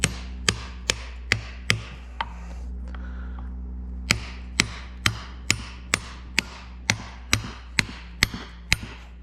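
Loud, sharp hammer blows ring out on a metal part being driven onto a 1973 Ford 3400 tractor power steering gearbox, about seventeen strikes in a steady rhythm with one short pause early on.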